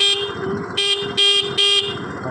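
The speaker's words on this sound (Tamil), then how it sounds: "வண்டி ஹார்ன் அடிக்கிறேன்." A 2019 TVS Jupiter scooter horn honks four times in quick succession, short loud nasal toots with uneven gaps, heard close over a steady low idling engine.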